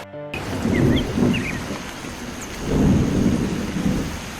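Steady rain pours down with low rumbles of thunder rolling in twice, no voices present.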